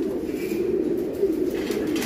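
Pigeons coo steadily in a loft of racing birds, a soft continuous low throaty murmur heard close and alone with no talking.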